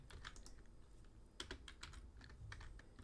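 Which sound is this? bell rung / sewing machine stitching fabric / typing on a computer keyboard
typing on a computer keyboard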